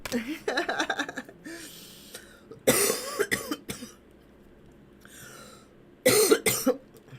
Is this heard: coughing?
yes